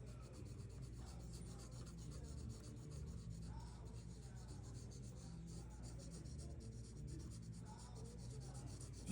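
Charcoal stick rubbing and blending across gray drawing paper while shading a tree, a steady close scratchy rasp with soft smudging strokes continuing throughout, no pauses.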